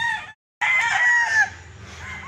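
A gamefowl rooster crows loudly and close by, a long drawn-out call broken by a brief pause, with some clucking underneath.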